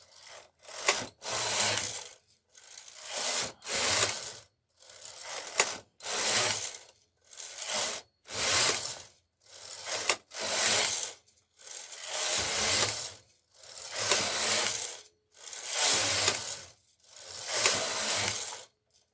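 Knitmaster KH965i knitting machine knitting plated fabric: a carriage swept back and forth in repeated rasping, sawing-like passes, about ten strokes with brief pauses between, close and clear with no talk.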